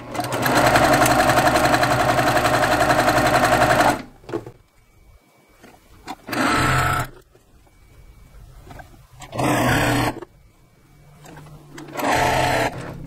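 A sewing machine stitches quilt pieces in loud, steady bursts: one long run of about four seconds, then three shorter runs separated by quiet pauses.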